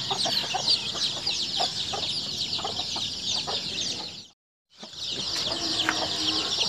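Weak, lethargic chicks and chickens on a backyard farm peep and cluck in a dense, continuous chorus close by, broken by a brief moment of silence.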